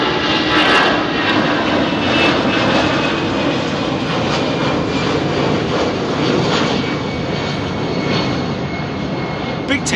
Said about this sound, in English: 757 is an awesome looking aircraft